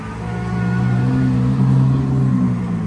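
Supercar in Cannes fitted with an aftermarket exhaust, its engine revving steadily for three seconds with a deep, sustained low growl, fairly close and loud.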